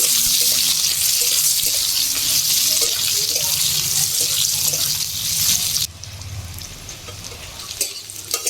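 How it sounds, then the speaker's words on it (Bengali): Cut amla, Indian gooseberry, goes into hot oil in a pan, a loud hissing sizzle that drops sharply after about six seconds to a quieter crackle with a few stirring knocks. "তেল গরম হয়ে গেছে, তেলের মধ্যে দিয়ে দিচ্ছি কেটে রাখা আমলকি।"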